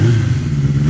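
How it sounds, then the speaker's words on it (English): An engine revving sound effect gives a short, loud, low mechanical roar with a steady throbbing tone, heard alone. "let's start revving that engine."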